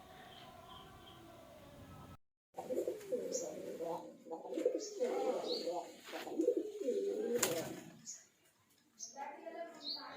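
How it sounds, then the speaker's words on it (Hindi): Pigeons coo repeatedly up close at a village pigeon farm, soft throaty warbling phrases in bursts separated by short pauses. "अभी आपने देखा कबूतर का आवाज़ कितना प्यारा था"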